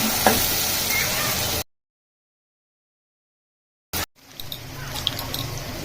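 Green chili paste frying in oil with cumin and mustard seeds gives a steady close sizzle, cut off abruptly by a few seconds of dead silence before the sizzling resumes more softly.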